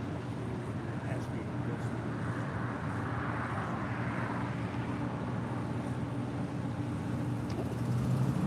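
Japan Airlines Boeing 777-300ER heavy jet departing LAX from the south side runways, a steady, broad low engine roar with rumble underneath, sustained and fairly distant, swelling slightly toward the end.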